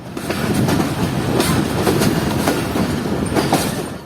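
A moving Karachi Express passenger train picks up speed, its wheels giving loud, rhythmic clickety-clack over the rail joints beneath a continuous rumbling roar, heard close from inside or beside the carriage.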